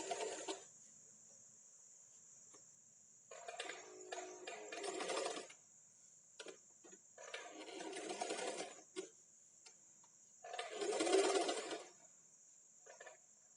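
A sewing machine stitching an A-line dress, running in several bursts with back stitching, a steady whirring buzz that starts and stops between quiet pauses, with no talk.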